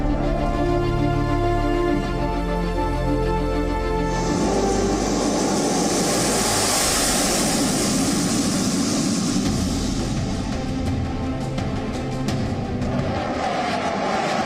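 Indian Air Force fighter jets pass low over the Purvanchal Expressway, an engine rumble swelling after a few seconds into a loud, sustained, broadband jet roar that lingers to the end, with no talking.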